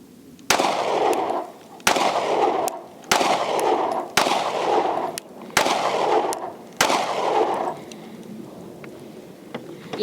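A Hellcat Pro Plus pistol fitted with a Monsoon Tactical Genghis compensator fires six sharp, loud shots at a steady pace about a second apart, each report ringing out with a long echoing tail, then the shooting stops.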